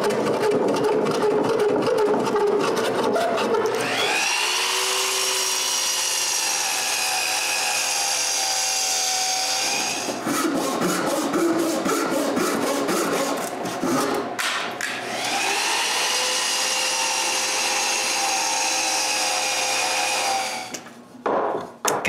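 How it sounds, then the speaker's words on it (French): Power saw cutting through a glued-up wood blank to square it: loud, sustained whining cuts with rising tone, broken by short pauses between passes, close and continuous. "je dois couper mon collage droit sur les 6 faces"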